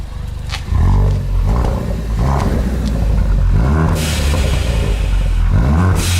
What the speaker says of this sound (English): Let's hear the exhaust note for now.